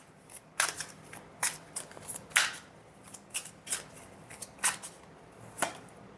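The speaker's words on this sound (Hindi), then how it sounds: "ये बहुत सारे कार्ड्स आ चुके हैं so we need to shuffle again" Tarot cards shuffled by hand during a reading, a string of crisp riffling bursts and soft slaps coming in irregular clusters, close and fairly quiet, with no talking.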